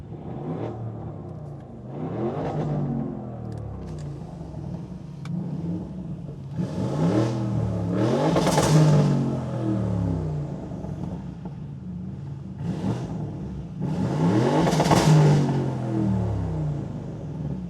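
A 2020 Audi RS Q8 SUV engine revs hard in RS mode, with repeated loud throttle blips that climb and fall, several strong surges close by and no talk over them.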